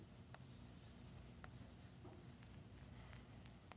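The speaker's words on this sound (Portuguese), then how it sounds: "Então, eu vou escrever isso aqui." Chalk or marker writing on a board during a Portuguese-language arithmetic lecture, with faint scratchy strokes and light taps over a steady low room hum, no talking.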